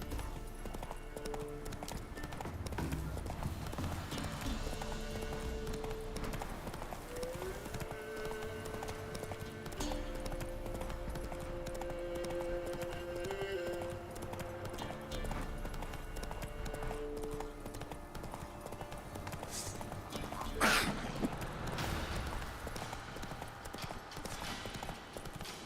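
Roach the horse gallops in The Witcher 3, hooves drumming in a fast steady rhythm that runs the whole time under game music, with a brief sharp burst near the end.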